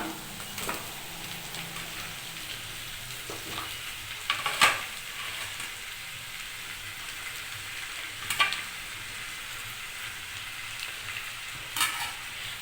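Ripe tomatoes cut into big chunks going into a pan of sautéing radish, a soft continuous sizzle with a few sharp scraping stirs and clinks of the spoon spaced out over the sizzle.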